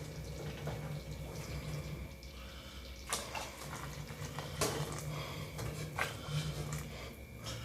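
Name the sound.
hot water poured into moong dal pakoda curry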